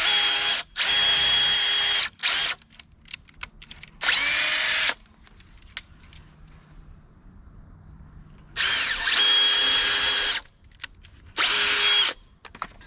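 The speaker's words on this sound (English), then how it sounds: "now we got that pilot hole drilled" A power drill bores a pilot hole for a structural screw in wood while a raised garden bed is built, in several loud, whining bursts separated by quiet pauses with faint handling noises.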